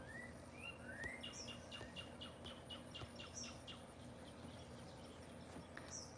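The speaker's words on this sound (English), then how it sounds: "Do you hear those other birds? Those are real birds right now." Real wild birds chirping outdoors near a beach, several quick rising tweets and chirps repeating over a constant insect or cricket drone, moderately distant and unaccompanied by talk.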